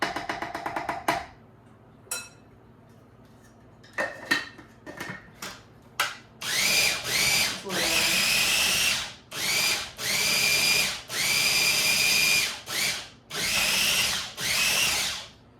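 Blender pureeing cooked beans for low carb chili, loud close motor whirring in a run of short repeated pulses after some clattering handling sounds.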